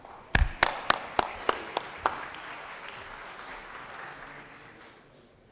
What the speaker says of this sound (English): If we give them a round of applause.